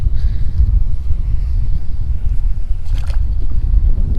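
Steady wind buffets the microphone beside a small pond, a continuous low rumble with a few faint higher rustles and clicks over about four seconds; no one speaks.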